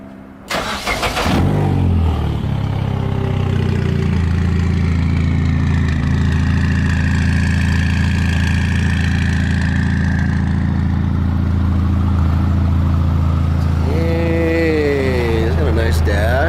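A car engine idles close by as a loud, steady low rumble, with people talking over it throughout.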